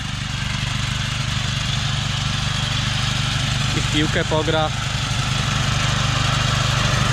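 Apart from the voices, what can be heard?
tractor lawn mower mowing fallow land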